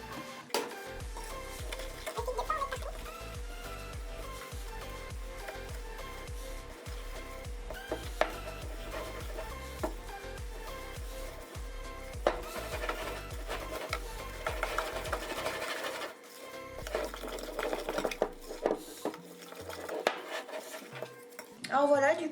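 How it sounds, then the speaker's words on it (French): Flour and baking powder are worked into gluten-free chocolate chip cookie dough with continuous rhythmic scraping and knocking of a utensil against a bowl, close and busy for the whole stretch with only short pauses. "On incorpore la farine et la levure."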